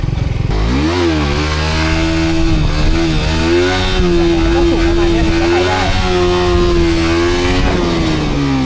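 Suzuki GSX-R150 motorcycle engine revving hard in first gear during wheelie practice, a loud continuous rising and falling whine close to the rider, with a voice talking over it.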